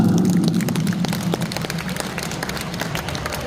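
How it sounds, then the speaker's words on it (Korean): Applause from an audience at a Hongseong county village-making council award ceremony, a steady broad wash of claps held through the whole moment with a low voice murmuring underneath. "축하해 박수 부탁드립니다"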